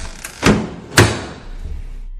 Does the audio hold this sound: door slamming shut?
yes